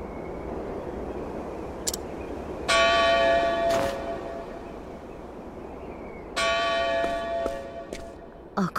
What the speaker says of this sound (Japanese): 暁の鐘